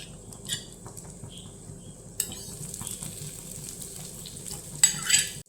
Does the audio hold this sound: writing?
no